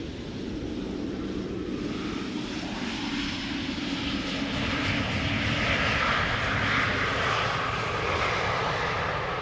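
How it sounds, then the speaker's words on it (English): A jet airliner lands at Amsterdam Schiphol without using thrust reversers, giving a sustained, fairly distant engine roar that swells slightly midway and holds through the whole stretch, with no talk over it. "No reverser landing there."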